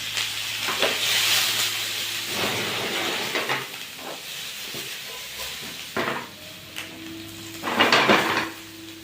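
Onion and pepper sizzle softly in a small amount of oil, a steady hiss with clinks of a utensil against the pan and a few louder stirring bursts, and no talking.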